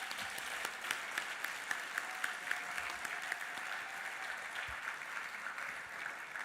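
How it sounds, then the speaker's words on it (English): A technical symposium audience applauds the Asphaltic Voices choir, a steady, moderately loud wash of many hands clapping that continues evenly throughout without speech. "I'd like us to give a round of applause to the Asphaltic Voices."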